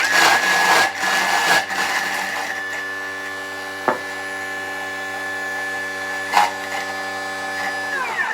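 A Thermomix running at speed 8, blending wild garlic pesto: a steady, loud motor whine with a high tonal hum and churning texture, plus a couple of brief knocks, continuing alone without talk.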